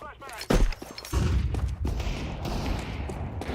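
A flashbang grenade goes off during a video game firefight: a sharp, close bang followed by a sustained rough noisy wash and scattered crackling, with voices partly audible around it.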